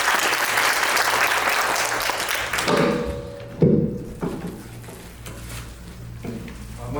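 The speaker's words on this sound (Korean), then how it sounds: "우리 박수로 환영합니다." Church audience applause welcoming an elder to the front at an evangelism training session: loud clapping at the start that fades over several seconds, with a few thumps and footsteps as it dies away.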